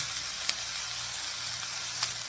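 Chicken pieces for yakitori donburi sizzle and brown in a pan, a steady quiet hiss with two brief sharper crackles, no talking.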